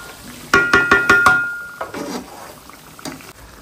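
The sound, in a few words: chicken cooking in a pot with water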